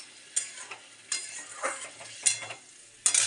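Fish curry masala frying in a pan, a soft steady sizzle broken by several sharp scrapes and clinks of a spoon stirring, close and fairly quiet with no voices.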